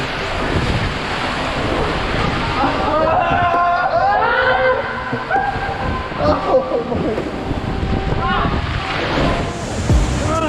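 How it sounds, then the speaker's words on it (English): Water jets push a boat uphill on a water roller coaster ride at a water park, a steady rushing and splashing roar that swells loud, with people shouting and talking over it. "It literally uses jets to push you uphill."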